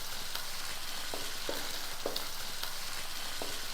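Ginger garlic paste fries on a low flame in a pan, giving a continuous soft sizzle with a few faint stirring scrapes, with no voices over it.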